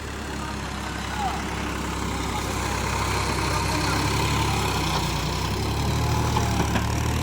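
A Massey Ferguson 254 DynaSmart 4WD tractor engine drones steadily at close range, a continuous low idling rumble that holds even throughout, with no talk over it.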